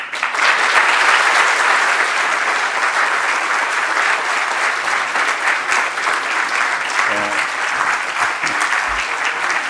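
Indoor audience applauding to welcome Premier Ford at a gift announcement event, dense sustained clapping that holds loud and steady for the whole stretch, with a few faint voices in the crowd.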